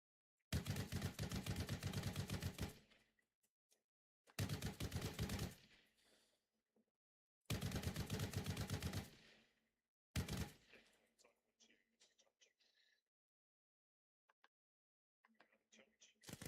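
Gunfire in the military shooter Arma Reforger, arriving in three long sustained bursts with a shorter fourth, loud and dense, each dying into a faint tail, with occasional scattered quieter shots between.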